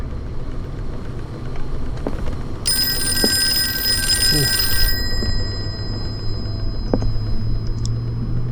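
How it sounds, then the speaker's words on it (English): An old-fashioned telephone bell rings in the Call of Cthulhu video game, a bright sustained ring lasting about two seconds over a low engine-like rumble and ambient hum, followed by quieter background noise. "Phone rings."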